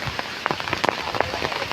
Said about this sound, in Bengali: দমকা হয় বইছে এবং সঙ্গে বৃষ্টি।